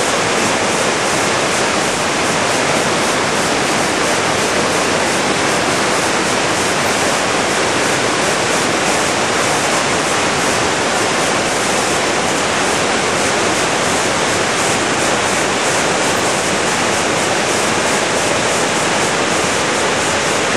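Coac Falls pours in a continuous loud, dense roar of rushing water, steady and unbroken throughout with no voices.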